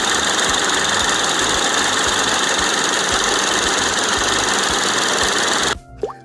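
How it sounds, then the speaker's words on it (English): A car engine idles steadily up close with a rapid, regular ticking tap running through it, then cuts off abruptly near the end. "So I hear a little bit of valve tapping in that car."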